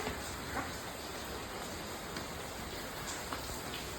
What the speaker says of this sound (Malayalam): മഴയൊക്കെ പെയ്യുന്നുണ്ട്.